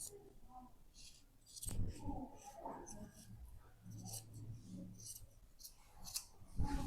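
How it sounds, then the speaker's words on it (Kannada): Scissors snipping through blouse fabric along a fold, a few crisp cuts with small clicks and rustles, close and fairly quiet, with a voice faint in between. "ಇಲ್ಲಿ ಈ ಫೋಲ್ಡ್ ಕರೆಕ್ಟಾಗಿ ನೀವು ಕಟ್ ಮಾಡ್ಕೊಳ್ಳಿ"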